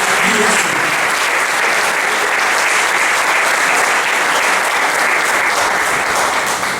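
A church congregation at a Portuguese-language worship service breaks into loud, sustained applause, a dense, even wash of clapping that runs throughout.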